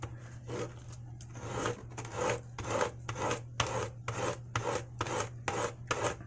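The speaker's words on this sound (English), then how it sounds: "I glide it on the sandpaper back and forth." Rhythmic back-and-forth rasping of an X-Acto blade fixed in a skateboard-style holder being slid across sandpaper, about a dozen steady close strokes over a low constant hum.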